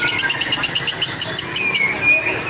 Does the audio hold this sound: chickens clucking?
no